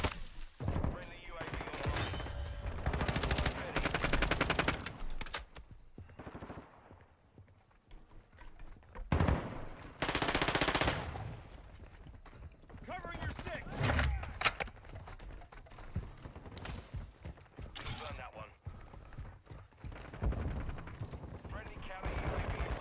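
Shotgun fire in Modern Warfare 2 multiplayer, with sharp loud blasts scattered between footsteps and other gunfire in a busy game mix.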